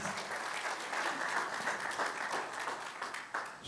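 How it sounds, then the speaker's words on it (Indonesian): A congregation at an Indonesian church worship service claps enthusiastically, with dense, sustained applause filling the hall at steady volume throughout, and no speech rising above it. "Boleh tepuk tangan lagi yang semangat."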